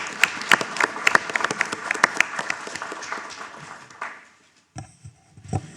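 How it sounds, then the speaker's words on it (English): A room full of people claps for the Eagle Pass ISD Board of Trustees at a Texas school board meeting. The applause is loud and dense with sharp individual claps, then fades out after about four seconds, leaving scattered quieter sounds. "please join me in a big round of applause for, like I said, the best Board of Trustees in the state of Texas"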